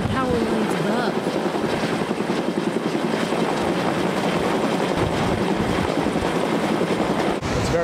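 A rescue helicopter hovers over the Kern River, its rotor a loud continuous chopping roar with wind buffeting, steady and close for the whole stretch.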